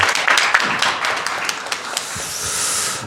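An audience at a Korean business breakfast meeting on AI in healthcare gives the presenter a round of applause: steady, dense clapping through the whole stretch, fairly close and even, with no talk over it.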